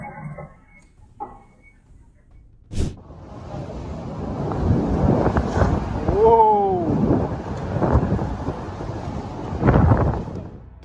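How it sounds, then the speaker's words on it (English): Lightning strikes an electrical substation in North Carolina during a storm, caught on a surveillance camera: a sharp crack followed by a long, loud rumbling roar mixed with wind noise. "Lightning struck a substation in North Carolina on May 2nd, captured by surveillance cameras."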